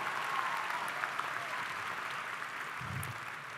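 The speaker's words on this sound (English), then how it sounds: "I think that deserves another round of applause." Audience applause at a high school commencement ceremony, a steady dense wash of many hands clapping throughout, loud and sustained with no speech over it.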